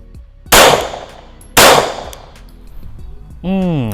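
Two loud, sharp Glock 17 pistol shots about a second apart at an indoor range, each with a ringing decay, followed by a brief tonal beep.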